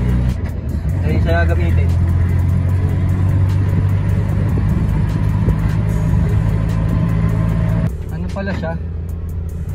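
An owner-type jeep engine runs with a loud, steady low rumble throughout, its tone shifting near the end, while people talk over it.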